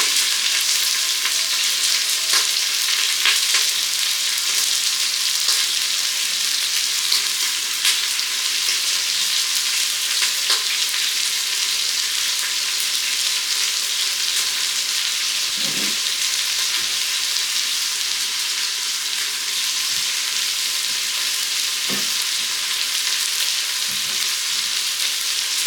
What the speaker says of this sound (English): You want to saute them onions, get them brown.